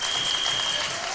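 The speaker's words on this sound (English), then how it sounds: "Viking Strong is up and clapping." A crowd claps steadily and loudly at a high school varsity volleyball match on senior night, dense continuous applause filling the gym with no clear voices.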